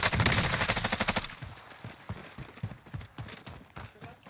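Rapid automatic gunfire from Call of Duty Warzone opens with a dense, loud burst of shots, then thins into scattered, quieter single cracks spaced irregularly.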